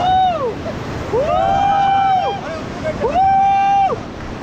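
Rushing Ganges rapids during river rafting in Rishikesh give a steady watery roar beneath loud, drawn-out shouts from the rafting crew.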